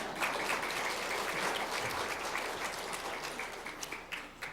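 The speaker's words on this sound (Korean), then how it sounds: "박수 한번 쳐주세요." Sustained applause from a church congregation at a Sunday afternoon service in Busan, a dense steady clatter of many hands filling the room, gradually thinning toward the end.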